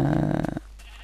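A Minecraft sheep gives a single short bleat up close, loud and wavering for about half a second before cutting off into near silence.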